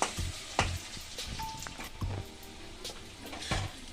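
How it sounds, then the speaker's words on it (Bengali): Chopped onions fry in oil with a steady broadband sizzle and occasional stirring scrapes, for a Bengali katla fish kalia, close and moderately loud with no talking. "পেঁয়াজগুলো আমি কুচিয়ে রেখেছিলাম এটা আমি দিয়ে দিলাম দিয়ে এটা একটু লাল লাল করে ভেজে নেবো"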